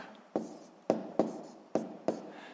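A pen writes by hand on paper while working a sixth-grade math exercise: five crisp stroke onsets, each trailing into a short scratch, close and fairly quiet.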